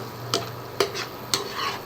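A spoon stirs a mash of chigri fish head and tail in a pan over low sizzling oil, three sharp scraping strokes spaced evenly, close and distinct above a quiet fry.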